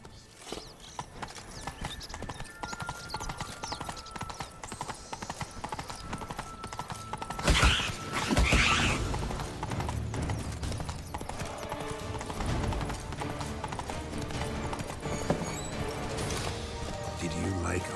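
Horse hooves clip-clop at a steady galloping rhythm in The Witcher 3, with occasional whinnies and game music, while voices talk over the hoofbeats throughout.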